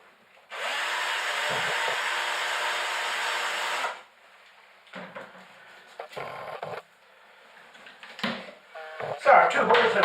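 A drill boring 10mm holes through a clamped cardboard box whines steadily for about three seconds, followed by shorter bursts of handling and tool noise.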